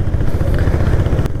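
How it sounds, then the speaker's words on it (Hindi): A 2022 Royal Enfield Hunter 350 motorcycle on its stock exhaust gives a loud, close, throbbing single-cylinder rumble with steady pulsing, ending on a brief sharp click. "स्टॉक एग्जॉस्ट में खतरनाक आवाज़ है।"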